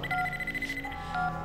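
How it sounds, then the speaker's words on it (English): A telephone wired to a fax machine rings with repeated electronic trills over a low hum, steady and close, with no one speaking. "It's been ringing ever since we came in."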